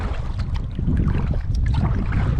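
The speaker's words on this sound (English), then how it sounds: "I don't know if you can hear the wind." Steady wind buffets the microphone during a paddling trip on the Mississippi River near Tennessee, a continuous low rumbling roar with gusty swells, loud and close, and no talking.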